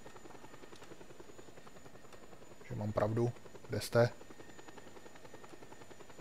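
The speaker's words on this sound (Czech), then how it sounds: "hlavně přiletějí další vrtulníky teďka na mě" Helicopters in the Just Cause 2 video game keep up a continuous rotor drone beneath someone speaking, with brief louder bursts of game action.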